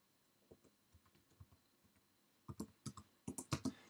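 Code is typed on a computer keyboard in Xcode, starting as sparse, soft keystrokes and turning into a louder, faster burst of close clicks near the end, with no talking.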